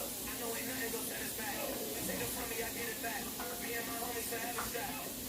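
Shrimp sizzle in a crowded skillet with a steady, broad hiss that holds evenly throughout, with small crackles popping over it.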